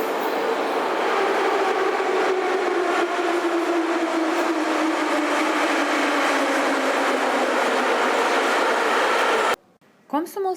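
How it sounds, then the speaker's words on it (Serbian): A Moscow metro train rides through a tunnel, a loud continuous rumble and whine with a slowly falling drone and rhythmic rail clatter, ending abruptly near the end of the ride. "sada ćemo vas povesti na jedno kratko putovanje metrom"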